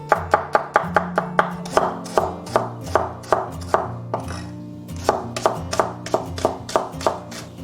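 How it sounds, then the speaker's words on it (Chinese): A knife slices scallion, ginger and garlic on a cutting board in quick, crisp, evenly paced chops. The taps sound close and clear, with one short pause midway and no voices. "料头的话，我们准备葱姜蒜全部切片"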